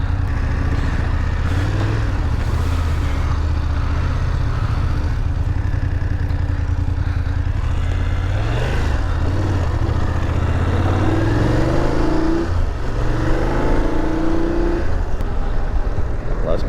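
A motorcycle rides along a wet road on the Southeast Backcountry Discovery Route, its engine droning steadily and close under heavy wind rush, with the pitch rising and falling as it shifts and accelerates.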